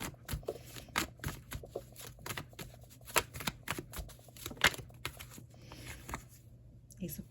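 Tarot cards being slid back into the deck and shuffled, a quiet series of papery flicks and riffling taps in irregular bursts.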